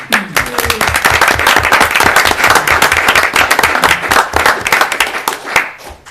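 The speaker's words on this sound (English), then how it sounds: "I'm going to clap" Loud, close clapping and applause rise at a city council meeting for an employee of the year, a vigorous crowd of hands with sharp individual claps, sustained throughout with little speech.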